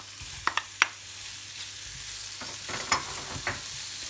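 White and red onions sweating in a pan while the oven preheats, a low sizzle broken by a few sharp scraping taps of a spoon, close and quiet with no talk.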